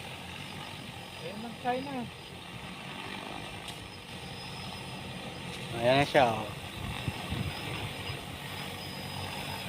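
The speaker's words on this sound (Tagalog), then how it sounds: "Oh, helicopter." A helicopter drones steadily overhead outdoors as a low, distant rumble throughout, while people talk briefly over it.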